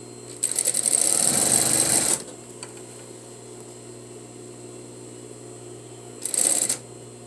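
A sewing machine stitches facing seams in a steady whirring burst of about two seconds. A low hum carries on through a pause, then a second short run of stitching follows, close by.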